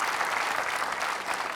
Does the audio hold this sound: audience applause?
yes